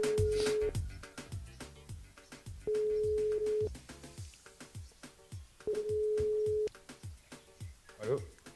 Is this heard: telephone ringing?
yes